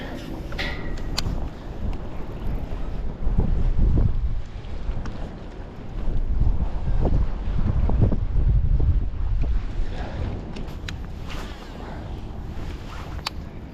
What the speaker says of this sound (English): Wind blowing in this marina.